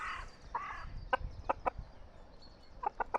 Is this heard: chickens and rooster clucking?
yes